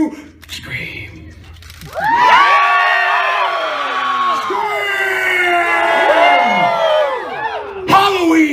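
A large crowd at Halloween Horror Nights screams together in a sustained, loud wall of shrieks and yells that swells and lasts several seconds before dropping off.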